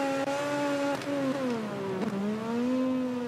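A motorcycle engine in the MotoGP 20 racing game holds a steady high-pitched drone, its pitch dipping and recovering briefly as gears change, continuous and loud with no voices.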